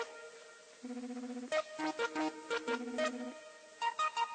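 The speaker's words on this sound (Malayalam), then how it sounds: "അടിക്കുന്നുണ്ട് ഫോൺ അടിക്കുന്നു" A melodic mobile phone ringtone plays loud and close, a repeating electronic tune of short bright notes and sustained tones, with no one talking over it.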